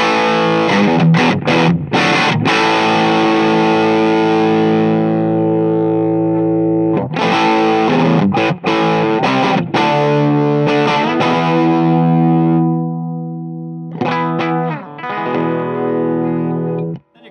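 Distorted 2015 Gibson Les Paul CM electric guitar rings out in sustained, heavily driven chords with a few quick strums and pauses between phrases.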